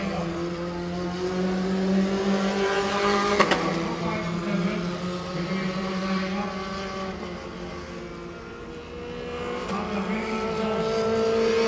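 Formula 4 race cars at the 2017 Formula 4 SEA Championship, accelerating on track with a droning engine note that swells and shifts pitch, plus a brief sharp burst partway through, heard at a moderate distance.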